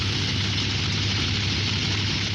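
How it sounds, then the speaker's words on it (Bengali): Sand dredger engines run on the Khasiamara river at Noapara, Doarabazar, Sunamganj, a loud steady low droning hum with no break or change, alone without voices. "সারাদিন অর্ধশত ড্রেজার বসিয়ে বালু তোলা হচ্ছে"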